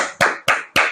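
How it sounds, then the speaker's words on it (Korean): Hand clapping during a church service: three loud, sharp claps close by, evenly spaced about a quarter second apart. "박수!"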